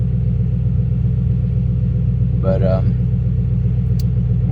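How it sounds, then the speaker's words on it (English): A Toyota 1UZ-FE V8 idles in a car with a steady low rumble and an even, smooth hum, while someone speaks briefly over it. "Car seems to be running a little bit smoother"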